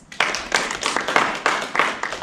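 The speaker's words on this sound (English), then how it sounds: "Clap if you know what a doll is." An audience claps in a steady run of separate bursts for about two seconds, fairly close and lively, with no talking over it.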